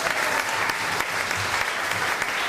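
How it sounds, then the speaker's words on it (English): Wedding party guests applaud after a speech, a steady dense wash of clapping from a roomful of people filling the space, fairly even and sustained without voices standing out. "give him a round of applause"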